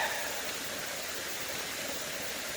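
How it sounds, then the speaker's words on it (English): A waterfall in a park hisses as a steady, broadband rush, fairly faint and continuous, with no voices over it. "where you can hear the waterfall"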